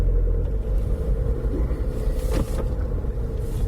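An automatic front-wheel-drive car's engine gives a steady, low, close rumble from inside the cabin as it pulls under throttle, with a faint mechanical whir running through it.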